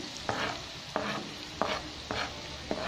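Onions stirred in a frying pan, a steady sizzle broken by five or six evenly spaced scraping strokes of a spatula, close and moderately loud.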